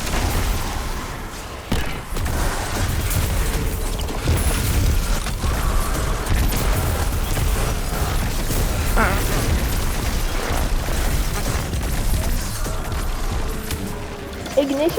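Ignition explosions from a Destiny 2 build go off in a dense combat mix, bursts and booms stacking over steady firing and clatter, with someone talking over the action.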